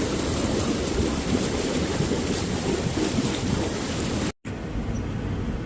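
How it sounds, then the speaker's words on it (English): A spa blower churning pool water into heavy bubbles, a steady loud rushing, frothing wash that runs continuously, then cuts off abruptly near the end, leaving a quieter hiss. "So now that you have the spa blower on, we're getting a lot of these bubbles."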